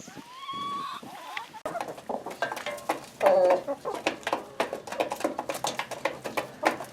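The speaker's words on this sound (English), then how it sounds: "We have Barred Rock, Buff Orpington, and Rhode Island Red right there." Barred Rock, Buff Orpington and Rhode Island Red chickens on a homestead cluck steadily at close range in a busy, rhythmic flurry, with one louder call partway through and no talk.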